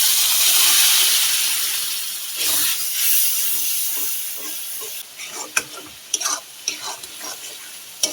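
Masala of chili powder and salt fries in a pan after a splash of water: a loud steamy hiss swells and fades, followed by sharp scraping stir strokes against the pan over a continuing sizzle.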